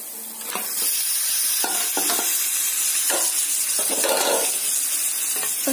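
Chicken pieces hit well-fried masala in a hot pan, setting off a loud, continuous sizzle with occasional stirring scrapes close by.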